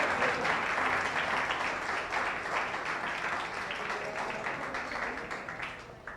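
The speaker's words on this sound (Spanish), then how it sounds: "Aplaude al Señor." A church congregation applauds at a Spanish-language service, with steady, dense clapping that fills the room at full strength for several seconds and tapers slightly near the end.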